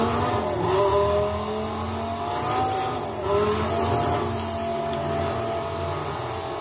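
Race cars roaring through a drag race in Need For Speed Most Wanted, engines droning and revving steadily at high pitch, loud and continuous with a brief dip midway, with no talk over it.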